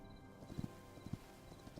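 Horse hooves clip-clopping while riding in the video game Hytale, quick paired hoofbeats repeating in a steady gallop rhythm at moderate volume over a soft ambient background.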